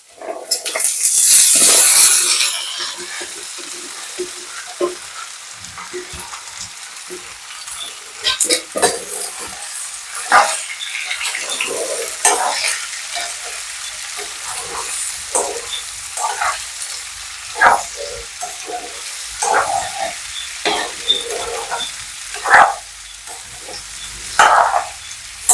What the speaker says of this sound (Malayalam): ഇതിലേക്ക് നമ്മുടെ പാവയ്ക്കയും കൂടി ഇട്ട് നമുക്കൊന്ന് വഴറ്റിയെടുക്കാം കേട്ടോ.